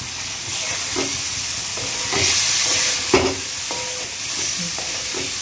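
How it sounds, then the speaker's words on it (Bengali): Cauliflower frying in spice masala in a pan for a homestyle cauliflower and chana dal dish, with a steady hiss of sizzling and irregular scraping strokes of stirring, close and moderately loud, no talk. "এর মধ্যে আমি ফুলকপিগুলো দিয়ে দেব।"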